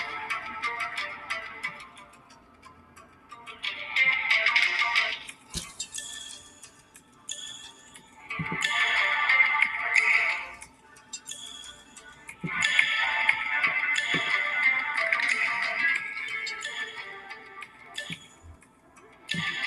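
A phone ringtone plays in repeated bursts through a wooden 2x4 phone holder that amplifies it, with short pauses and knocks between the tones.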